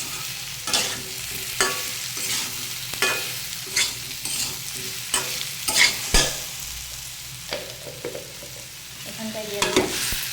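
Kochu stems, pumpkin and white sesame paste are stirred in a frying pan, with repeated sharp scraping strokes of a spatula over a continuous sizzle, close and fairly loud.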